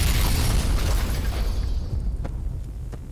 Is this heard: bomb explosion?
yes